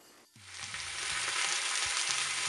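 Pork tenderloin browns in an Instant Pot. After a brief quiet moment, a loud, close sizzle swells and holds steady, broken by a few soft thuds from the pot.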